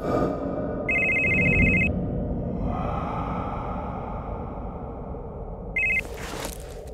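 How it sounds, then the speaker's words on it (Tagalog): A black cellphone rings with a bright electronic tone in two bursts, one long near the start and a shorter one toward the end, over a low rumbling, eerie background. "biglang mag-ring ang cellphone na itim na hawak ko"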